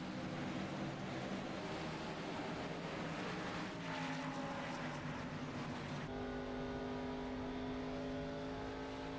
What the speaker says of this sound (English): Lights are out on the pace car, field going past.